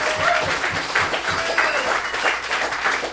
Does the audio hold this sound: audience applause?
yes